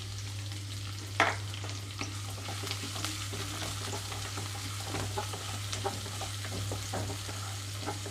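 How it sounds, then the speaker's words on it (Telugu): Chopped onions and green chillies hit hot oil with tempering spices for a spinach and meal maker curry, giving a steady close sizzle with occasional spoon scrapes and stirring clicks, with no talking. "కట్ చేసి పెట్టుకున్న ఉల్లిపాయలు పచ్చిమిరపకాయలు వేస్తున్నాను ఇందులోకి"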